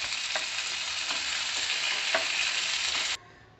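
Pointed gourd (parwal) fries in a little oil in a pan with a loud, continuous close sizzle and a few brief stirring clicks, cutting off abruptly near the end.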